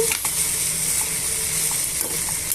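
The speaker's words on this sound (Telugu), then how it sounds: "ఒక టెన్ మినిట్స్ అలా వేయించుకుందామండి బెండకాయ ముక్కలు టమాటాలు అన్నీ వేగిపోయాయి కదండి" Okra pieces and tomatoes frying together in a pan for okra chutney, giving a steady, even sizzle throughout with a few faint clicks and stirring scrapes, close and fairly loud, no talking.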